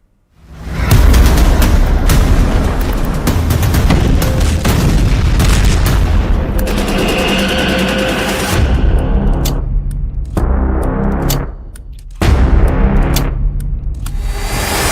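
Bombs explode in a war news sound effect, with heavy booming blasts and rumbling gunfire layered into a loud, dense barrage that breaks into separate sharp detonations and brief gaps toward the end.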